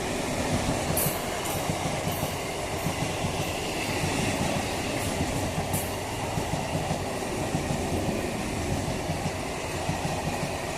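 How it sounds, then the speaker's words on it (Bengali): A Sealdah–Ranaghat local train runs through Kanchrapara Workshop Gate station with a loud, steady rumble and rattle of wagons and wheels. Faint squeals break through now and then over the whole stretch. "31623 up Sealdah Ranaghat local next rail station Kanchrapara."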